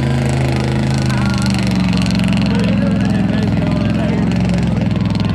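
A mud race vehicle's engine roars steadily as it drives through mud at speed, loud and continuous, with a voice talking over it.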